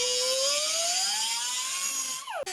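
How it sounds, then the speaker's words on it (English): An air-powered cutoff wheel, throttled way back, cuts an aluminum eye guard for a Viking helmet, producing a steady high whine whose pitch slowly rises before it sags and a sharp click ends it. "it sounds like my cutoff wheel is not operating properly"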